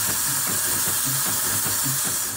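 A 1926 Aveling-Porter steam roller gives off a loud, continuous steam hiss, close by and steady, with a low rhythmic chuffing pulse running underneath.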